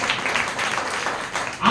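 A church audience applauds during a sermon, a dense, continuous wash of clapping at moderate loudness that swells briefly at the end.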